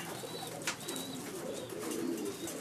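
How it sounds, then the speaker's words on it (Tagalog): Pigeons waiting for food coo softly and repeatedly nearby, with low, rolling calls over a quiet background and a few faint higher chirps. "Kaya nakaantabay ang mga ibang pigeon."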